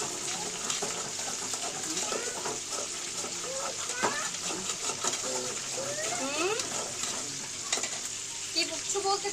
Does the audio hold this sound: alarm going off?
no